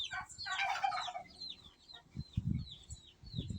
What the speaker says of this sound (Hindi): छोटी सी चिकन है हमारी